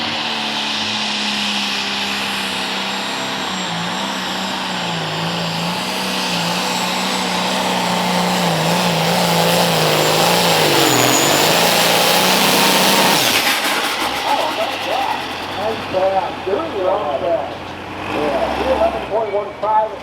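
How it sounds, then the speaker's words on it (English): A hot stock pulling tractor at an ECIPA tractor pull in Rockwell, Iowa roars down the track, its engine droning loud and steady with rising and falling pitch before cutting off into clatter and a few sharp pops, under announcer commentary. "All right, green flags are out here for A.J. Walker, two-time ECI champion out of Washington, Iowa."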